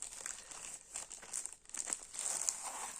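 Packaging is crinkled and torn open during an unboxing of a canvas kit with rhinestones, a close, irregular rustling with brief tearing bursts and no talk.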